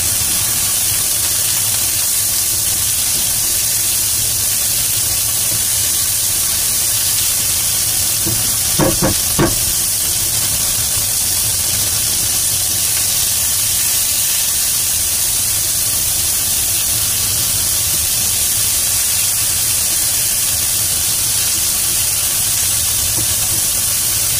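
Onions sautéing in a frying pan give a steady, close sizzle and hiss throughout, with a brief stir or clatter near the middle and no talking.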